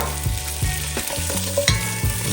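Andouille sausage frying and rendering its fat in a pan, loud close sizzling with a few rhythmic stirring scrapes in quick succession, no speech.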